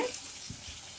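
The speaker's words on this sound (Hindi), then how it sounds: "ये जो पानी हमने बॉयल किए थे गट्टे वो भी इसी में" Boiled water saved from cooking gatte is poured into a pan of masala, making a soft, brief splashing trickle. It is faint and close, and there is no talk over it.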